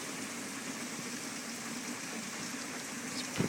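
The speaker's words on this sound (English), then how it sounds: "It's pouring down rain, you can probably hear it." Heavy rain pours down steadily during a thunderstorm, a dense, even hiss of downpour that holds at a constant level throughout with no voices over it.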